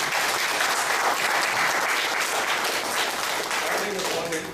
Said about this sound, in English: Please give a round of applause to these people.